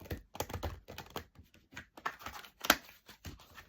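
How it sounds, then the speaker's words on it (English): Magic unicorn oracle cards being shuffled by hand, a quiet run of soft papery riffles and flicks in irregular bursts with brief pauses, close and alone. "Let's give them a little shuffle"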